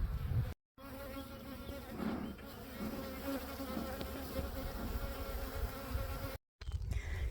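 Honeybees hum around an opened hive in a calm, steady, close-up drone. Quiet rustling sits underneath the buzz, and the sound cuts out briefly twice.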